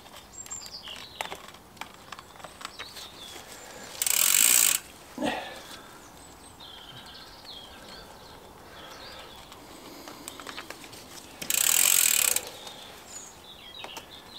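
A bicycle chain runs through a chain cleaner, giving a close mechanical ratcheting whir with clicking, cut by two loud bursts of hissing noise, while birds chirp faintly outdoors.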